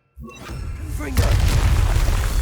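A Confringo fire-blast spell in Hogwarts Legacy goes off as a short, heavy boom. A whooshing onset builds into a loud, rumbling burst that sustains for about a second, close and forceful.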